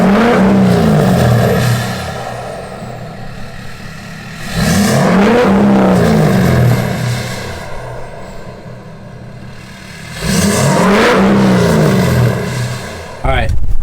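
A 2019 Ford F-250 pickup's engine, tuned to 200 extra horsepower with a 5-inch turbo-back exhaust, roars and revs in surges, rising loudly about every five seconds, with a throaty exhaust rumble holding steady between the pulls.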